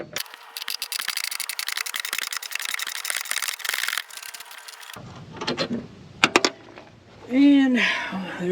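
A ratchet fitted with a 13mm socket undoes seat bolts inside a 2005-2014 Ford Mustang, giving a dense run of rapid clicking for several seconds, then a few scattered clicks and brief talk.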